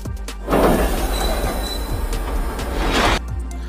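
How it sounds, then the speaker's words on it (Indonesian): A train rumbles and screeches as it gets moving, with squealing wheels and low mechanical noise building over several seconds. "kereta itu pun berjalan saat Shahida masih berada di luar."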